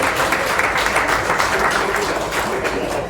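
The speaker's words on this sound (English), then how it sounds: "You can clap at that if you like." Audience applause at a political fundraiser dinner, steady dense clapping throughout, fairly close and full, with no voices over it.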